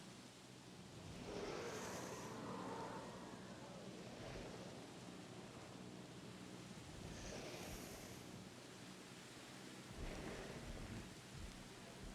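Steady rain in the video game Jurassic World Evolution hisses continuously, with soft rumbles of thunder rolling in and out underneath, moderately loud throughout with no talking.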